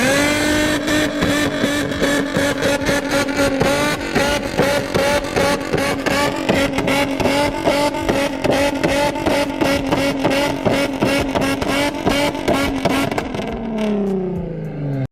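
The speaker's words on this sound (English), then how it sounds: "let me show you guys a couple videos of the fat flames this car shoots" Nissan 350Z engine revving hard with rapid, rhythmic exhaust pops and crackles from flames, loud and close, the rev held steady before dropping off sharply at the end.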